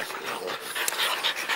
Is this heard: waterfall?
no